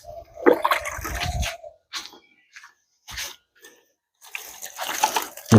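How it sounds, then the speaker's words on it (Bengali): Water splashes onto rose and marigold plants in a sunny garden, coming in short, intermittent bursts of pouring and spattering with quiet gaps between them. "গোলাপ গাছে জল দিয়ে দিচ্ছি।"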